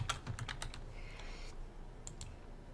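Quick bursts of typing on a computer keyboard, close and fairly quiet, with a short pause partway through before a couple more keystrokes.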